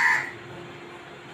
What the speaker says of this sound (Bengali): আমাদের এখানে একটা পেঁপে গাছে কাক আছে, ওটা খালি ডাকতেছে।